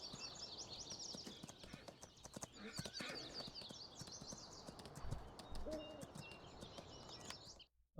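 Horse hooves in the video game Farming Simulator 19 clip-clop in a steady walking rhythm over a soft outdoor ambience with occasional bird calls, moderately quiet, ending abruptly.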